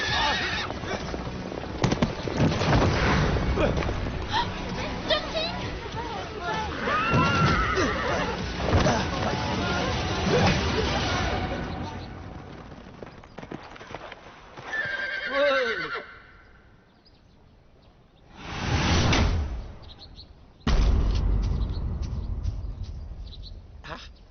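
A horse whinnies loudly several times over clattering hooves amid a noisy race crowd, with people shouting throughout, then a brief lull before more shouts and movement.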